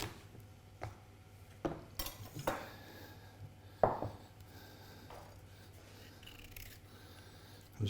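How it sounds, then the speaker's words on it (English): A kitchen knife cuts and scrapes the tough skin off a celeriac, with sparse sharp clicks and scraping knocks against a board, close by and with no voices. "I'm just going to use a knife to do this as opposed to the potato peeler, because it's a bit harder to get through"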